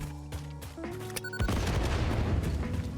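A burst of rapid explosive bangs erupts and keeps crackling in a dense, loud rumble, like fireworks or gunfire going off close by.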